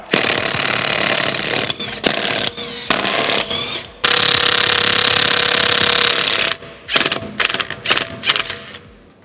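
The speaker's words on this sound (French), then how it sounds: "la boulonneuse, déboulonneuse Makita" A Makita impact wrench hammers at a 19 mm bolt on an old Beetle being rebuilt, firing in long loud rattling bursts broken by short pauses, then a string of quick stuttering pulses.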